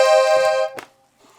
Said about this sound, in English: It's a pure Musette accordion.